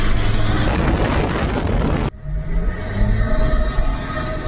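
Land Rover Discovery with a manual transmission, engine running while driving after a five-month restoration; a steady loud engine and road rumble with wind noise, cutting abruptly halfway to a quieter, lower drone.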